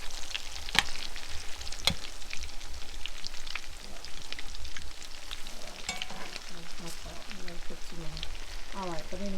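Salmon croquettes fry in a pan with a steady, close sizzle and crackle, punctuated by a few sharp spatter pops and utensil scrapes, while a voice speaks briefly near the end.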